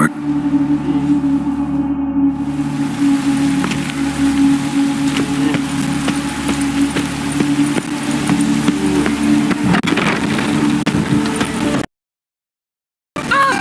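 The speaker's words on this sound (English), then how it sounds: "It just rains and rains." Steady rain in The Witcher 3: Wild Hunt, a constant hiss of falling water under a low humming drone with scattered soft ticks, ending in a sudden cut to silence.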